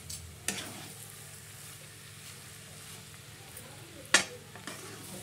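Potato chutney is stirred in a pan over a faint, steady sizzle, with two sharp scrapes of the spoon against the pan standing out, one early and a louder one near the end.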